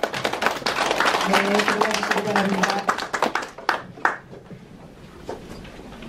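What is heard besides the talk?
congratulatory audience applause for new members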